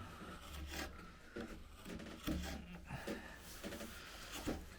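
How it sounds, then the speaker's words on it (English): A wood gouge carves out the bowl of a wooden coffee scoop, making repeated short scraping and rasping cuts at close range in a quiet room. "I'm using the shape of the gouge really to maintain the"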